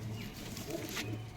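A female Kalanka pigeon gives a quiet, low coo at the start and another near the end, both faint against a soft background murmur, with no one speaking.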